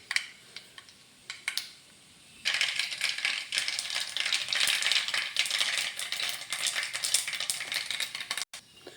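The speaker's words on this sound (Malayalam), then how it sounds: "കടുക് പൊട്ടിയിട്ടുണ്ട് കേട്ടോ." Mustard seeds spluttering in hot butter, starting as faint scattered pops that swell into a dense, close crackle which continues steadily to the end.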